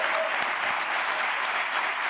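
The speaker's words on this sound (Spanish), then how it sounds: "pues un aplauso para Raúl" A studio audience applauds for Raúl on a Spanish late-night talk show, steady dense clapping filling the whole clip at an even level, with no voices rising above it.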